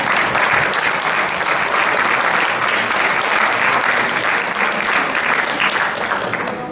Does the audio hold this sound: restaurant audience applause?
yes